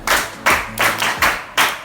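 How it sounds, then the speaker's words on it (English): Students and guests at a Christian academy clap for a student: six loud, sharp claps in a loose, steady rhythm, close by. "Clap for her."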